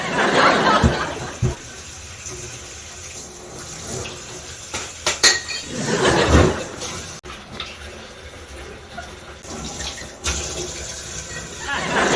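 Metal cooking utensils and dishes clatter loudly after being dropped in a home kitchen, several sharp crashes and rattles standing out against a running-water background, with people talking around them.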